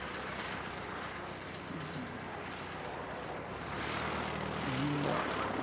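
A jet airliner taxiing and turning at an airport gives a steady distant engine hum and whine that swells slightly toward the end, with no talking.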